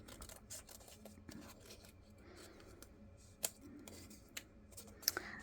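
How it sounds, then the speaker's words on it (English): Scissors snip through paper in a few quiet, separate cuts, with small crisp clicks and rustles between them. "you can put your scissors inside and finish the rest."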